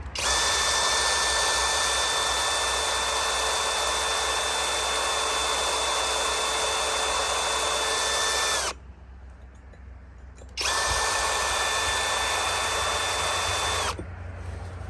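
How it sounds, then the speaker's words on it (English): A power drill in drill mode whines loudly and steadily while working on a stripped Mercedes exhaust manifold nut, stops briefly, then runs again for a few seconds before cutting off. "so now let's set on drill mode"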